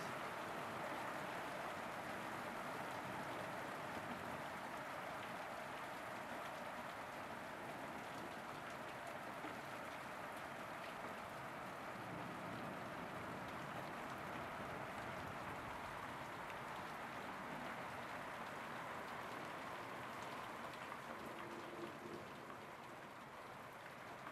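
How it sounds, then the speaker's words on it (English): Heavy rain from a severe thunderstorm in northern Victoria, a steady dense hiss of downpour on surfaces that holds constant throughout with no voices. "hope that's the end of the rain."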